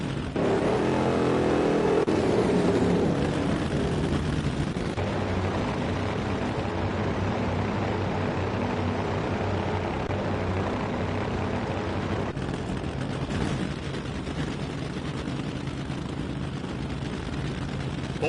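Drag racing funny car engines at full throttle roar in a continuous, dense, very loud blast lasting many seconds, with a rough broadband rumble that barely changes.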